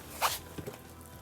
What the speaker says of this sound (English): So let's make sure that one zips, and that sure does.